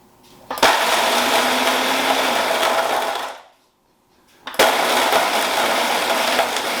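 A blender whirs loudly and steadily, stops for about a second, then starts up again and keeps running.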